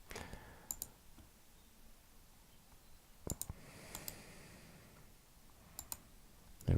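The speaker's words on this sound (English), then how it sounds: "Again, select the material, right mouse click" Sparse computer mouse clicks at a desk while working in SolidWorks, faint crisp single and double clicks spaced a few seconds apart in a quiet room.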